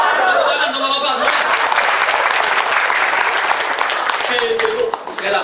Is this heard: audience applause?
yes